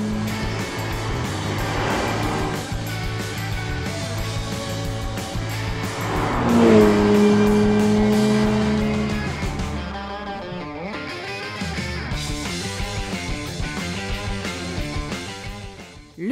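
A Porsche 911 GT3 sports car drives past with a strong engine roar that swells and shifts pitch, fading to a quieter drone toward the end.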